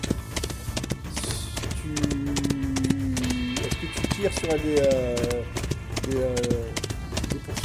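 Horses gallop with rapid, steady clip-clopping hooves and occasional whinnies as a game sound effect, heard under French conversation at a tabletop role-playing session.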